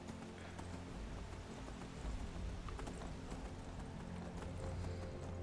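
Horse hooves clip-clop on the ground in the game Skyrim, a fairly even trotting rhythm heard close over a busy background of game ambience.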